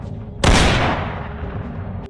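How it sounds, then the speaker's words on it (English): A single loud shotgun blast goes off abruptly after a brief quiet lead-in, its sharp crack decaying into a long rumbling tail. "as Angelo Bruno flicks the cigarette, a gunshot blast goes off."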